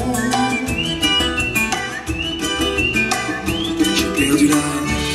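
A whistle is played live on stage at a pop concert at the Olympia in Paris, with bright sliding melodic phrases riding over loud drums and a full band.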